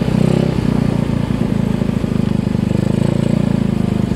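A 180cc motorcycle engine runs steadily and smoothly at a close, even idle-like hum, with a soft, regular mechanical pulse and no clatter or talk.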